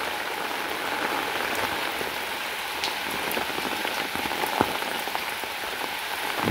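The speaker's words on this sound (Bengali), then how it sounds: "বৃষ্টির পানি" Steady rain pours over an open village field in Niteshwar, Bangladesh, with rainwater running across the ground, a dense even hiss with scattered close drop splats and no voices.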